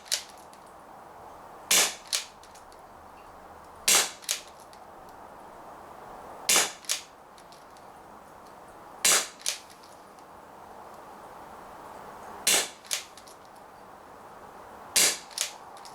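KWC M11 airsoft pistol with a softer valve spring firing single sharp cracks, each followed by a quick second snap, spaced a few seconds apart across a quiet room with no talking.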